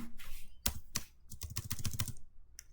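Close-up typing on a computer keyboard while coding a web page table: a few isolated clicks, then a rapid burst of keystrokes and a final tap, with no voice over it.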